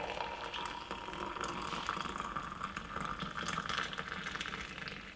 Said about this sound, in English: pour off that beautiful hot lemon and ginger tea, which we just made, straight inside of my cup